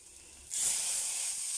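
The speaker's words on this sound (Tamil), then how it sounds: "எண்ணெய் காஞ்சதும் கொஞ்சமாக வடகம் போட்டுக்கோங்க." Quiet room tone gives way to a sudden, loud, sustained sizzle as vadagam, sun-dried South Indian fritters, hit hot oil, hissing steadily up close.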